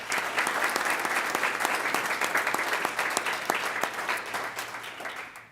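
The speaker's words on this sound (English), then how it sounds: "Give that team a round of applause." A crowd at a school board meeting gives a team a loud, close round of applause, with rapid steady clapping that holds for several seconds before tapering off.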